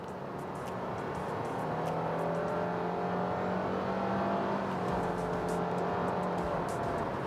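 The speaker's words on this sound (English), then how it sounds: "let's go from 60 to 100 kilometers an hour, full throttle." A 2022 Mitsubishi Outlander with a CVT accelerates at full throttle from 60 to 100 km/h, its engine a loud, steady strained drone from inside the cabin with tones slowly rising, plus road and wind noise and brief simulated shift dips.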